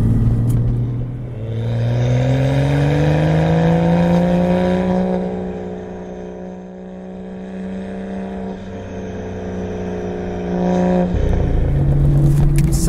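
BMW M2 GTS project car at speed on a damp race track, its engine droning loudly and steadily with pitch rising and falling through gear changes, close and continuous with no talking.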